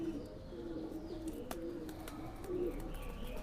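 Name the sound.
Bangladeshi local high-flyer pigeons cooing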